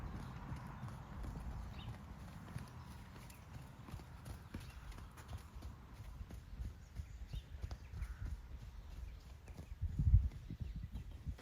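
Hooves of a ridden young, unbroken horse drum softly on the ground in a steady repeating rhythm that briefly quickens into a canter, fairly close and faint, with a louder thump near the end.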